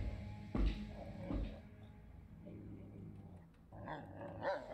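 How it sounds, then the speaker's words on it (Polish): A dog growls low and menacing in the horror video game Wrong Floor, rumbling steadily with a few louder snarling surges over a dark, droning game ambience. "Piesek!"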